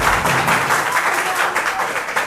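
Studio audience applause for a contestant answering correctly on a Hindi general-knowledge quiz show, a loud, full burst of many hands clapping that holds steady from start to finish.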